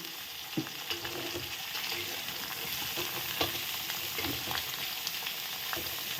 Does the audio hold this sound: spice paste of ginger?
yes